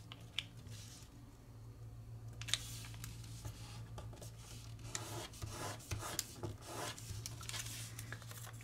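Origami paper being creased and folded for a simple fidget spinner, with soft crinkles, rubs and light taps repeating close by against a low steady background hum, and no talking.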